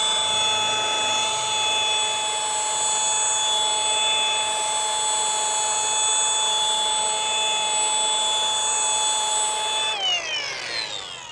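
A rotary polisher buffs black Ferrari paint in direct sunlight, its steady high-pitched whine running loud and unbroken for about ten seconds before the tone wavers and drops as the machine slows near the end.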